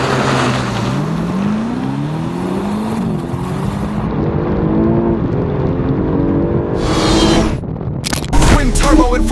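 A twin-turbo 4000 cc Aston Martin DB12 with 670 bhp accelerates hard, its engine note climbing in pitch through repeated rising sweeps with a shift between them, loud and close, ending in a sharp burst of noise.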